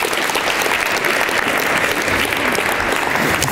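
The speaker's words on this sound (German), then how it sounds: "Bitte einen ganz großen Applaus schon alleine dafür." Symposium audience gives steady, dense applause for Hans-Ingo Biel, a continuous wash of many hands clapping at even loudness throughout.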